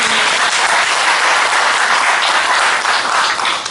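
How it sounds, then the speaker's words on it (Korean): Audience applause following a congratulatory speech at an academy founding and entrance ceremony, a dense, steady wash of many hands clapping loudly throughout with no voices on top. "여러분 박수 한번 부탁드리겠습니다."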